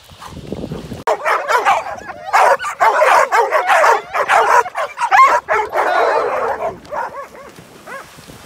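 Several farm dogs bark, yip and whimper excitedly in a loud, dense chorus of overlapping calls, close by and continuous after a short quieter start.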